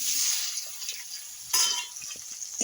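Boiled giant taro (mankochu) frying in a pan with cumin seeds, a steady close hiss of oil with faint stirring scrapes and a brief louder burst of sizzle partway through.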